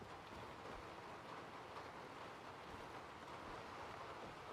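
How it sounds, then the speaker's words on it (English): Indoor rain ambience in the game Skyrim: a soft, steady broadband hiss of rainfall, faint and unbroken throughout with no talk. "Oh wow, we even get rain noises inside"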